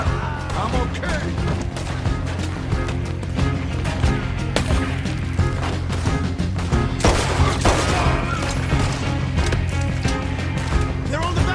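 Rapid, loud gunfire from a Red Dead Redemption 2 shootout during a train robbery, dense overlapping shots and sharp cracks in irregular bursts, with shouting voices mixed in.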